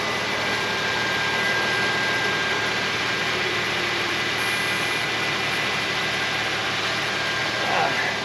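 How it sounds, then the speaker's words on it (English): Infiniti FX35 engine idling after an oil change, a steady broadband whooshing hum with no distinct revs, constant and moderately loud throughout. "got the engine running"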